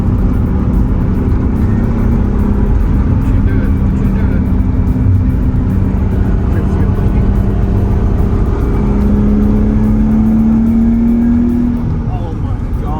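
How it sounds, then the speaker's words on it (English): Steady, loud engine and road drone inside a Nissan 300ZX turbo cruising at speed, with a rising whine near the end and tire and wind noise underneath. "this car drives like brand new"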